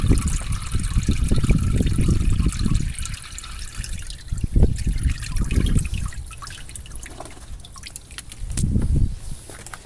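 Water drains and drips from a tray of soaked cactus seeds, a close, continuous trickle with scattered drips.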